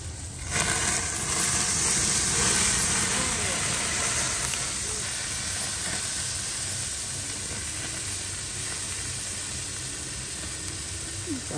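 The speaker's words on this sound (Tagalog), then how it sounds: "Ibig sabihin yun, tumutulo na yung kanyang taba." Fat dripping from meat over an outdoor bonfire barbecue in San Diego, California, producing a continuous loud hiss and sizzle with crackling fire noise, while a person talks over it throughout.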